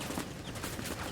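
Dense, continuous gunfire from Rainbow Six Siege fills the whole moment, a steady barrage of rapid shots with no gaps and no voices over it.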